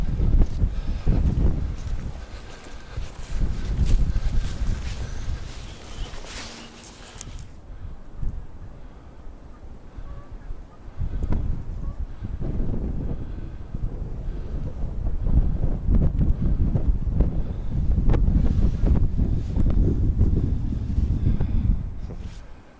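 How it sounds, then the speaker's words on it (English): Wind gusts along the slopes of a coulee, buffeting the microphone in surging low rumbles that rise and fall, easing briefly in the middle before building again. "Wind's not actually so bad right against the coulee, right against the slopes here."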